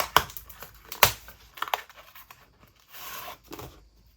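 Cif sponges torn out of their plastic packaging at close range: sharp ripping bursts with crinkling between them, then quieter rustling and handling, with no talk.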